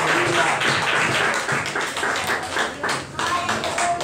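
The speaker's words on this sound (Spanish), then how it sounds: "Den un aplauso fuerte a Dios." A church congregation claps loudly together at a service, a dense sustained wave of applause lasting a few seconds, with some voices mixed in.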